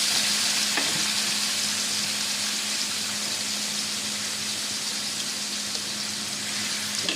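Beef ribs and onion for caldereta sizzle loudly in a pan as broth goes in, a dense steady hiss with bubbling and stirring, close and without speech.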